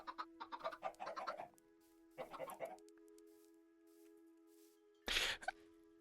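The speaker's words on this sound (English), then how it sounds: "There are a lot of chickens here." Minecraft chickens clucking in a sequence of short bursts, then a louder sharp squawk near the end over a steady tonal game hum, with no talk.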